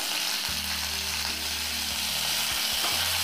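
Green chilies and leaves dropped into hot oil in an Odia kitchen while making instant pakhala, a steady loud sizzle with low stove hum and a few soft stirring knocks, no talking.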